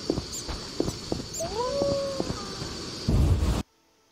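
A dog in the video game The Witcher whimpers and whines in a drawn-out, wavering tone over a low ambient game soundscape, followed by a short burst of rumbling noise before silence.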